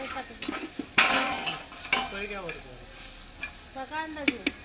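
Masala is stirred into sautéed vegetables in a pan, with a gentle sizzle under repeated scraping and clanking of a spoon against metal, close by, with brief squeaky rubbing sounds.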